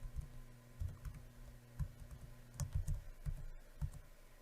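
Typing on a computer keyboard, entering a student email and password at a login screen: a steady run of soft, close key clicks in irregular bursts, with no voices.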